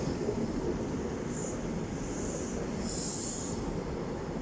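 A train with an MTU engine passing through Nottingham station sounds as a steady, loud rumble with wheel squeal and rail noise throughout, and no talking.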